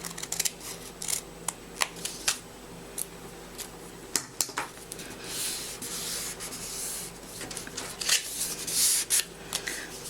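Scissors snip through cardstock in short, irregular cuts, close and crisp, with rustling and rubbing of the paper between the snips.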